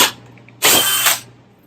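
A Dewalt cordless hammer drill bores in one short, loud burst of about half a second, close up, between quieter stretches of room noise.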